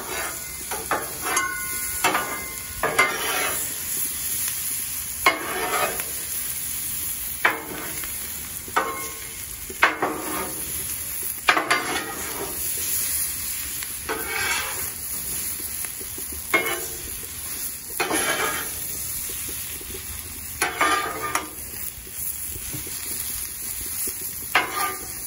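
Peppers, onions and sausage on a Blackstone griddle: a continuous sizzle punctuated by many sharp metal spatula scrapes and pushes as the food slides across the flat top, close and fairly loud.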